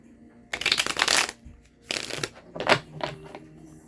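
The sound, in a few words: shuffling tarot cards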